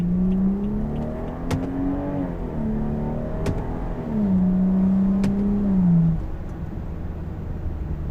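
BMW F30 335i tuned with Bootmod3 stage 2 pulling hard under acceleration, a steady mid-pitched engine drone rising and shifting through gears, heard from inside the car with no talk.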